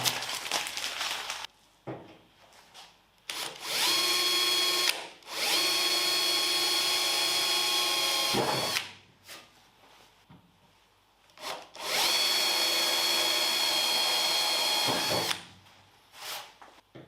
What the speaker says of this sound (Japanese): 一応今4ミリまで穴開け終わった